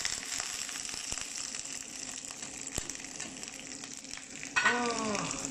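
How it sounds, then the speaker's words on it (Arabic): Green beans of two kinds, carrots, onion and peppers sizzling steadily in butter in a pan, a constant close frying hiss with occasional stirring scrapes and a brief clatter near the end. "الحين نبلش نحمس الخضار"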